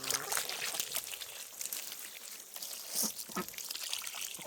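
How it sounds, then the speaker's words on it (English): Water is poured out onto spring onions, a faint trickling, splashing pour heard up close in quiet open-air surroundings for a few seconds, with no one talking. "I'll smack a bit of water in there"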